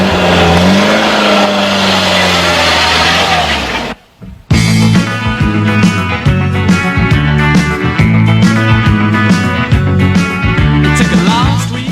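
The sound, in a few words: Peugeot 205 CTI 1.6 cabriolet driving, engine accelerating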